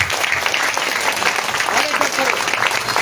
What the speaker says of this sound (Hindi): हाथ ताली से।